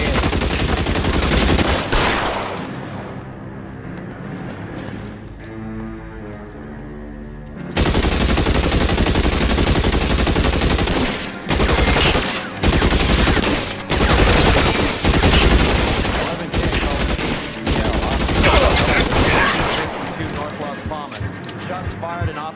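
Heavy gunfire in the video game L.A. Noire: after a quieter stretch with lower tones, dense rapid bursts of shots crack loudly and nearly continuously, stopping and restarting in irregular clusters, with voices mixed in.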